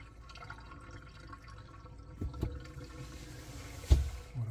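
Water running through an RV water filter line, a soft, steady flow and trickle with a few small knocks and drips, close and fairly quiet.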